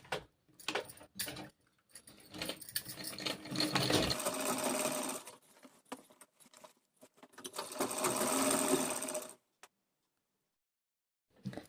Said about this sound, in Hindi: इसको लाइनिंग की तरफ डाल के इस तरह से सिलाई धार स्टिच लगा देंगे